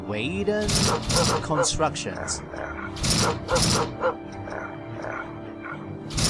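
A dog barks repeatedly in sharp bursts in the game Memento Mori 2, mixed with whimpers and yips, while a person talks over it.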